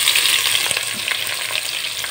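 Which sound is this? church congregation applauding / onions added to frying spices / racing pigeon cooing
onions added to frying spices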